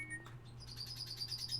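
Pet birds loosed indoors chirp in a quick, rhythmic run of high bright notes, fairly faint over a steady low hum, with no talking.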